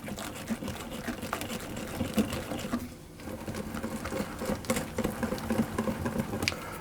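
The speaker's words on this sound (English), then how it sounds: "So I'm going to whisk it, and I'm going to keep whisking it until it goes paler." Cooled chocolate frosting is whisked by hand in a bowl, a fast, continuous patter of wire tines tapping and sloshing, close and steady with a brief pause partway through.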